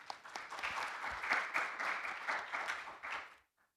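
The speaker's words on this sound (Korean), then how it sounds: "배정환 교수님께 다시 한번 좀 박수 부탁드릴게요" Audience applause for a professor at a medical workshop luncheon session, a few seconds of steady moderate clapping that swells and fades out abruptly, ending in near silence.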